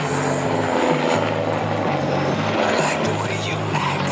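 A Tigre combat helicopter roars past on a fast fly-by at an army light aviation air display in Mirecourt, a loud sustained rotor and turbine wash with steady low harmonic hum filling the whole stretch.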